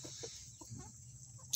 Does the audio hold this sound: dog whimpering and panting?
no